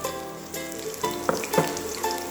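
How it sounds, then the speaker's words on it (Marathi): Green chilies, teppal and ginger fry in a pan for a Goan mackerel dish, sending up a steady close sizzle with a few brief stirring scrapes. "मातशें परतून घेवया।"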